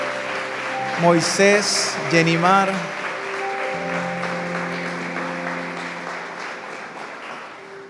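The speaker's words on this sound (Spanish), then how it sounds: "Recibámoslos con un fuerte aplauso." A church congregation applauds as a couple is welcomed to the front, the clapping a steady wash beneath a voice speaking and a short musical swell, with sustained organ-like tones underneath.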